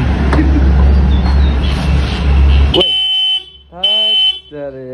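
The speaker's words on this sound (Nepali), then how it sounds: "आफै हर्न बजाएर" A scooter horn blares in a few short, loud honks close by, after a stretch of rumbling street and engine noise.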